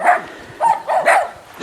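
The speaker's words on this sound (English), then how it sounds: "And there's a dog talking to me." A dog gives a quick run of short, yappy barks and yips, loud and close, in three or four bursts with brief gaps between them.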